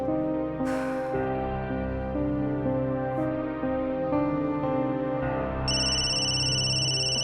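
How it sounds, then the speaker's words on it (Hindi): Telephone rings with a tonal electronic ringtone, steady melodic tones repeating with a higher chime entering near the end, moderately close and without talk. "किसका फोन आ गया?"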